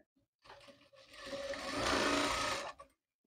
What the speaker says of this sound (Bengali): রাবারটি আমরা গোল করে সেলাই করে নেব।